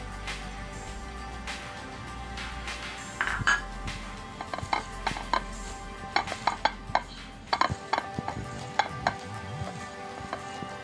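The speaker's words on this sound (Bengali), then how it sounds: "এখন আমি পেঁয়াজ দিয়ে দিচ্ছি, 2টা পেঁয়াজ কুচি দিলাম বড় বড় সাইজের।" Two large chopped onions drop into hot mustard oil in a pan with a sizzle. A metal spoon then scrapes and clatters against the pan in irregular sharp knocks over a steady frying hiss.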